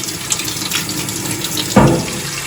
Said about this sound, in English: So you can always take some nice cold water